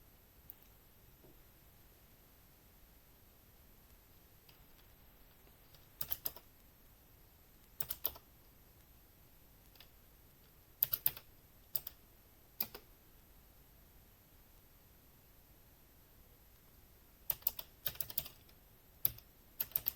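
Keys on a computer keyboard clack in scattered bursts as someone types out a short bash script, quiet stretches between clusters of fast, close keystrokes.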